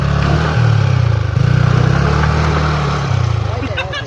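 A Hero Xpulse motorcycle engine revving hard on an off-road trail, a loud, close, throbbing low drone that pulses and surges in long bursts.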